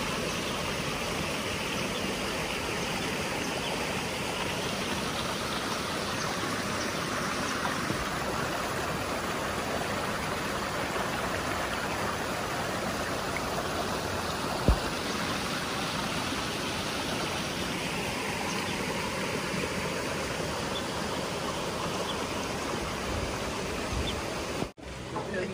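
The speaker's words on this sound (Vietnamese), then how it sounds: "Bên cạnh nhà anh Lùng là khe suối này, nước chảy quanh năm." Water from a year-round mountain stream beside a house runs in a steady, broad rush that holds evenly throughout with no gaps, fairly close and loud, with no voices over it.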